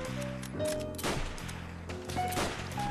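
Pistol shots in the video game World at War: a few sharp, close cracks spaced about a second apart over a constant layer of game music and ambience.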